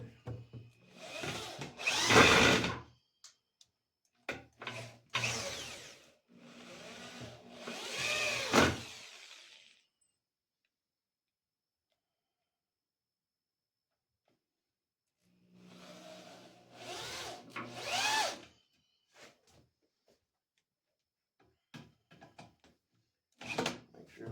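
A drill drives screws into wooden workbench boards with a worn, rounded-out screwdriver bit, in two bursts of whirring and grinding separated by a long quiet gap, with a few short knocks near the end.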